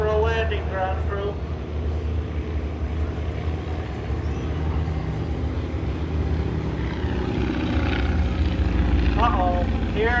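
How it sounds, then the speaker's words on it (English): A vintage Bristol Fighter biplane drones steadily with a low propeller-engine rumble as it comes in to land, with a voice talking over it throughout. "we have the Bristol fighter coming in for a landing"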